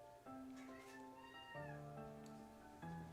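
A cat meows several times up close, drawn-out, tonal calls one after another with no talking.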